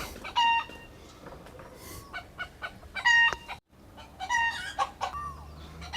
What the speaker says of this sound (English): It is indeed a rooster, not birds.